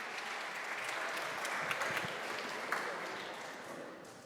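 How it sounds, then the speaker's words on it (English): An audience applauds at a live event: a broad, continuous wash of clapping from a sizeable crowd, fairly distant and steady, easing slightly toward the end. "Can we give them a round of applause, please?"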